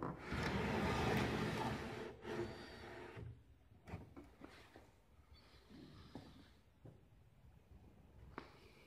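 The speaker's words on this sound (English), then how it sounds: "show you this drawer in the middle" A wooden drawer in the middle of a homemade table built for round incubators slides open and shut, with a long scraping rumble followed by several knocks and clunks of wood, close and fairly loud, alone without talk.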